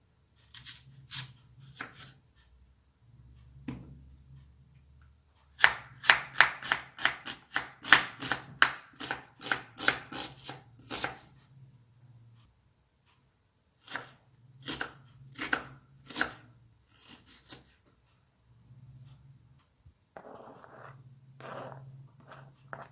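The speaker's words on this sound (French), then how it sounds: "je vais couper l'oignon et le poivron finement" A knife finely chops onion and bell pepper on a cutting board in a home kitchen, bursts of rapid, crisp taps in quick runs separated by short pauses, close and clear with no talking.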